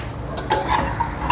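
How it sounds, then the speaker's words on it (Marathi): Fox nuts (makhana) are dry-roasted in a kadhai over low gas, with a brief rattling, scraping stir of the light kernels against the metal pan. "कोरडेच भाजून घेणार आहोत आपण."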